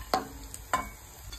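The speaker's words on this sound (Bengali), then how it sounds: "কিশমিশগুলো ভাজা হয়ে যাচ্ছে" Raisins fry in a little oil with a soft, faint sizzle, broken by two distinct scraping stirs of a spatula against the pan, close and quiet with no talk.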